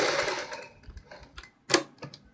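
A sewing machine stitches a kurti collar backed with buckram, running in short, uneven bursts of rapid mechanical ticking with brief pauses between, close and moderately loud.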